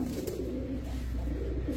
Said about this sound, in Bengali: কি কবুতর এগুলা?